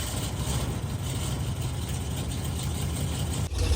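A vehicle engine idles while warming up, a steady close low rumble that holds even throughout and dips briefly near the end, with no talking.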